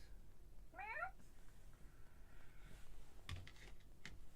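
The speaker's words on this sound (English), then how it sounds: "Is that a cat talking over there?" A cat meows once, a short wavering call at moderate distance, followed by faint clicking like keyboard typing in a quiet room during a card game night.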